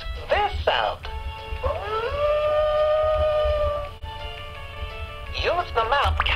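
A VTech Tote & Go kids' learning toy laptop plays a recorded wolf howl: a long, rising and wavering tone, bracketed by short synthetic voice prompts and yips at the start and end.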